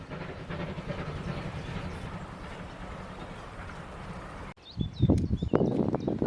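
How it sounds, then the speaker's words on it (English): Railway carriages rumble past in the Exmoor countryside, a continuous loud rolling clatter that cuts off abruptly and gives way to nearer footsteps and movement. "Just caught a glimpse of the carriages."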